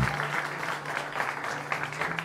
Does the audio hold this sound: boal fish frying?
no